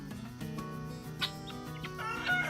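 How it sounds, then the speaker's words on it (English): A young rooster under a year old clucks softly on a family homestead, its short calls rising a few times over a steady, busy background of tonal sound. "So there's a young rooster, under a year old."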